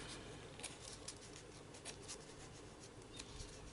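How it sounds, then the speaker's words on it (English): Small scissors trimming craft paper, soft faint snips and light crisp cuts in quick irregular succession, close but quiet under a steady background hiss, no talk. "I'll get just a smaller pair of scissors and just do a little bit of trimming"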